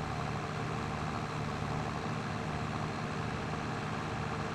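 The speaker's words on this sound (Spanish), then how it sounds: "Un paseíto con el tractor." Tractor engine from the Farming Simulator 22 video game rumbles at a steady, continuous drone while driving across a meadow, loud and unbroken with no talk.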